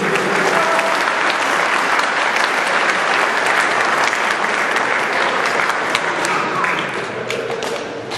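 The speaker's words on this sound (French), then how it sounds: "un tonnerre d'applaudissements" Sustained applause at a French club presentation event, with a crowd clapping loudly and continuously for several seconds before it begins to taper near the end.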